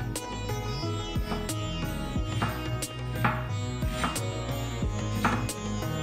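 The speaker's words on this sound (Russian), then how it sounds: "Две предварительно очищенные крупные луковицы нарезать кольцами" A knife slices onions into rings on a cutting board, tapping rhythmically in a series of crisp chops spaced about every half second, close and clear with no talking.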